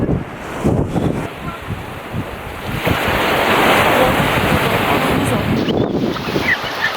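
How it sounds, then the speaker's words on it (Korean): Strong wind gusting across Hamdeok Beach on Jeju, a loud, steady roar of wind buffeting the microphone over crashing surf, swelling midway and holding close throughout. "바람 너무 많이 불어요"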